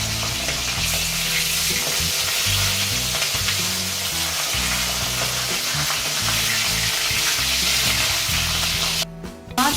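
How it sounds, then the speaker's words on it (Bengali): Pabda fish rubbed with salt and turmeric fry loudly in hot mustard oil, a continuous close sizzle with occasional stirring and turning, cutting out abruptly just before the end. "তেল গরম হয়ে গেলে এবারে নুন হলুদ মাখিয়ে রাখা মাছগুলো, এইভাবে মাছগুলো একটুখানি উল্টে পাল্টে একটু ভেজে নিতে হবে দু সাইডই"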